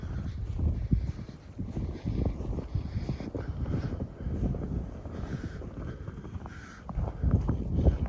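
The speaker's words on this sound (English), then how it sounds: "the wind is so strong" Strong blizzard wind gusting through heavy snow in Wisconsin, a steady rough low roar that swells and eases in gusts and buffets the microphone, close and continuous with no talk.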